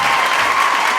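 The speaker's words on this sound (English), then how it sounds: "Round of applause!" Loud, dense audience applause with a hint of cheering, brief and sustained, filling a crowded hall.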